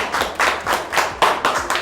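Children clap together in a school classroom, a close series of sharp, roughly evenly spaced claps in a quick steady rhythm.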